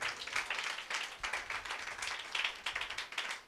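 A church congregation claps during a sermon, a quick run of many overlapping hand claps in a rough rhythm, heard faint and at a distance.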